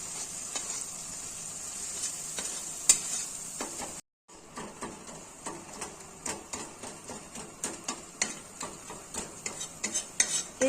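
Chopped onions sauté in a pan for a masala bhindi dish, hissing with a steady sizzle while a spatula scrapes and stirs in quick repeated strokes. A brief gap breaks the sound, then the rhythmic stirring grows more distinct.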